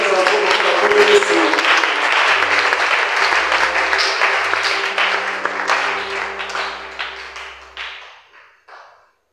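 A church congregation claps and cheers loudly in sustained applause, with a steady dense roar of hands that gradually thins and fades to a few scattered claps at the end; a low tone rises and falls beneath it.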